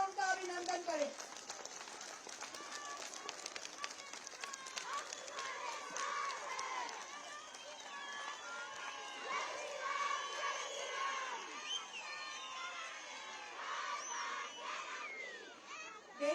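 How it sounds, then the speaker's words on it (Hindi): A crowd of women at a public event in Dheem Kataru, Saraj, stands and claps with cheers and shouts, a sustained, fairly distant mix of applause and excited voices with chatter throughout. "सभी बहनें खड़े होकर स्टैंडिंग ओवेशन के साथ उनका अभिनंदन करें, जोरदार तालियों से उनका अभिनंदन करें"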